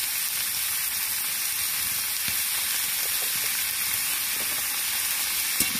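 Raw chicken pieces coated in dry ground turmeric sautéing in a pan for Bengali chicken kosha, giving a steady, dense sizzle that runs throughout with a few small spits and clicks and no voices.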